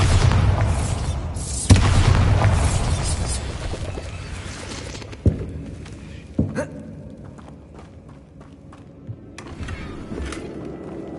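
A Bombarda spell explodes in Hogwarts Legacy, a deep boom near the start followed by a couple of sharper impacts and fading rumble amid quieter game ambience.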